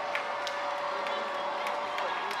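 A high school football crowd cheers and claps in the stands, a steady distant roar with scattered whoops, heard under a commentator's voice.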